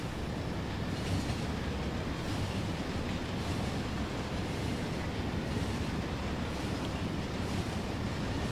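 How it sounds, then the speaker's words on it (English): A train rolls along rails in the Factorio video game, a steady low rumble with a faint rhythmic clatter that holds evenly throughout, with no talking. "And I suppose I may as well grab the train again."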